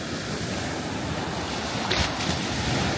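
Sea waves rolling onto a sandy beach at Southwold in the evening, heard as a steady close wash of surf mixed with wind noise. One swell rises near the end, and no one speaks.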